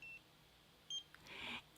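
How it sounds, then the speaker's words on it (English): A skincare treatment device lets out short, thin electronic beeps as it touches skin: one brief tone at the start and another just before a second later, over quiet background hiss. "it gives you one beep to tell you that the contact has been made"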